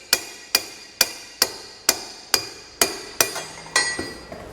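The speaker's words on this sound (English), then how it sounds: "you can take a hammer, kind of point that pry bar up at an angle" A hammer striking a pry bar to work out a jounce bumper during installation of a Timbren rear suspension enhancement system, ten sharp metallic blows at a steady, unhurried rhythm, close and alone.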